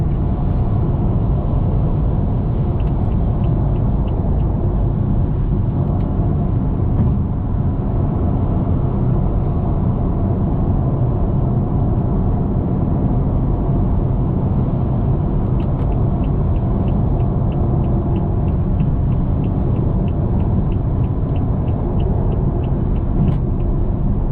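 A 480HP BMW F30 335i cruises on a highway in high gear, a steady low engine and road drone with tire roar, heard continuously from inside the cabin without talk.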